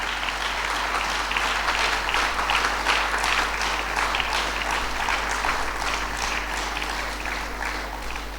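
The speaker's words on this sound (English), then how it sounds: "let us give a big round of applause for ourselves" A birth anniversary gathering bursts into sustained applause, dense steady clapping from many hands that fills the room for several seconds before easing slightly at the end.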